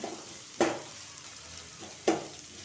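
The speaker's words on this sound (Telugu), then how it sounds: "ఇప్పుడు ఇది కొంచెం వేగాలి, పచ్చి లేకుండా." Chopped onions for a cabbage curry fry quietly in a pan, a soft steady sizzle broken by two sharp stirring scrapes.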